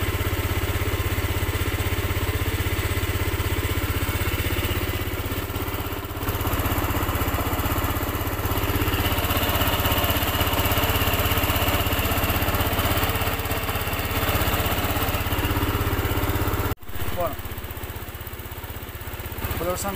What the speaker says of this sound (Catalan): Podeu sentir que és bastant estable, el ralentí